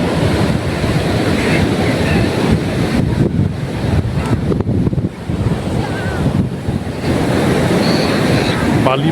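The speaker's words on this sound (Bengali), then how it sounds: "পিছনে রয়েছে সমুদ্র, সাদা ফেলার ঢেউ, জলরাশি।" Ocean waves break and wash continuously along Gopalpur beach, loud and close with heavy wind buffeting the microphone, a steady roar of surf throughout.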